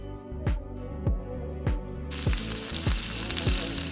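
Cinnamon sticks, star anise and bay leaf fry in hot oil for a soybean pulao, a soft, steady sizzle beneath recurring clinks and scrapes of a utensil, growing brighter and louder in the second half.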